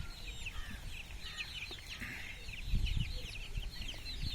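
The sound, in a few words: one-month-old Kairali chicks clucking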